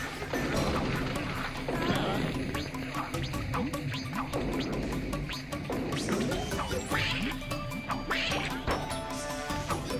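Donald Duck turns into an angry mad duck in the PlayStation game Goin' Quackers, letting out repeated loud quacks over crashing, thwacking game effects.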